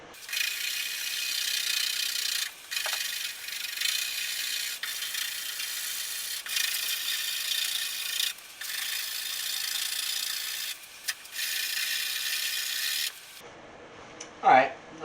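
Rust and old grime are scraped off a 1969 Mustang in long, steady rasping strokes with brief breaks between them, close and fairly loud, ending with a short bump.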